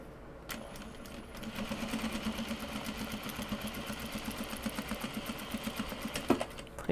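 A sewing machine stitching a Japanese fabric bag runs in a steady, close rattling rhythm for several seconds, starting after a brief pause and stopping near the end with a small clunk.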